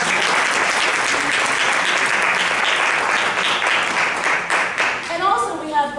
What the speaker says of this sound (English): Let's give a round of applause for our Chief of Development, Monica Womack